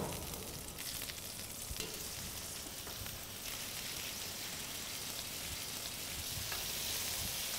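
Smash burger patties just flipped in a hot skillet sizzle loudly and continuously, a dense, even spitting hiss that holds steady for several seconds with no voices over it.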